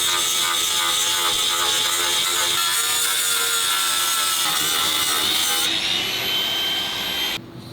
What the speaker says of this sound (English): I'm just going to run over the back with the sanding lapper disc to make it sit a bit flatter.